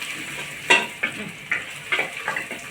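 Onions frying in a pan, with a low sizzle under a series of sharp spoon scrapes and taps against the pan, roughly six distinct strokes spaced irregularly, close and fairly loud.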